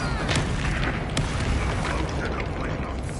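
A Confringo fire-blast spell in the Hogwarts Legacy video game, a dense booming burst with crackling debris that rolls on loudly and steadily, sitting in a thick wash of game combat noise and no speech.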